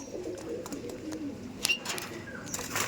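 Kaldom pigeons from a pigeon breeding loft in South 24 Parganas, India, cooing softly and repeatedly at close range, with faint chirps and background hum.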